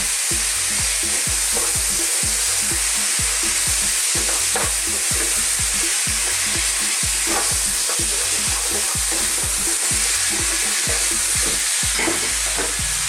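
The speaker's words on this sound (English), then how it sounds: "now we can go in with some chopped onion, and I've got some potatoes here raw, nice and small, which I'm going to add right now" Raw small potatoes and chopped onion sizzle loudly in a pan for an Indian minced beef and potato curry, with a continuous fry hiss and frequent stirring scrapes and clatters, nobody speaking.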